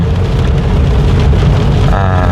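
Heavy rain falls steadily at a rural home during a stormy downpour, a loud, dense, unbroken hiss and patter close by, with no voices.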